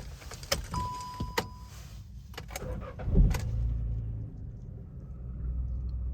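A small VW Up car sits with a few clicks and key rattles before its engine cranks and catches about halfway through, then settles into a low, steady, quiet idle heard up close.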